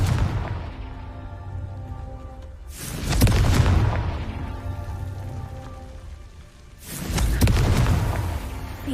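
A Confringo fire spell from Hogwarts Legacy goes off twice, each a loud booming blast with a crackling tail at roughly three and seven seconds, over a steady rain-like ambient hiss.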